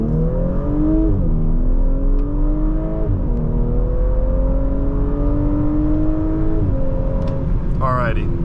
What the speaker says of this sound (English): let's do our first acceleration test